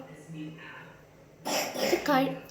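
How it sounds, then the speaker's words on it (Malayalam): After a quiet pause, someone gives a short, sudden cough, followed by a voice speaking briefly. "എന്നാടാ ചുമക്കുന്നേ?"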